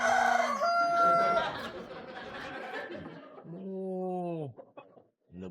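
Roosters crow loudly close by, one long crow rising and falling with others overlapping, while clucking hens and people talking mix in around them.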